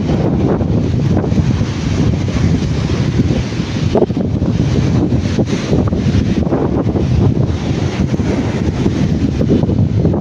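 Strong wind blows at the seashore at night, roaring continuously into the microphone with a buffeting rush and faint surf beneath, loud and unbroken.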